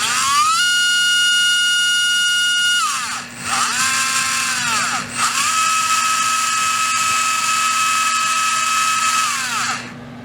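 A REDS Racing VX4 PRO stock 17.5T brushless RC motor spins up on a test bench with a loud, piercing, steady electric whine. The whine dips briefly twice, then settles back to full pitch before cutting off.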